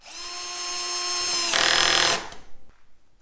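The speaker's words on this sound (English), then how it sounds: "Then drive the screw into the insert." A power driver runs a screw into a threaded insert, whirring loud and close with a rising whine. The pitch shifts to a harsher grinding as the screw seats, then cuts off, leaving brief clicks.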